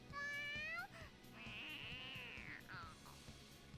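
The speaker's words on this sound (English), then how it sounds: "I have no idea if Cassandra Lee Morris legit did meows for this, or if, you know, they got a clip of a cat" A cat meows in the Persona 5 video game: a clear, close, drawn-out meow followed by a longer wavering caterwaul over a steady low background hum.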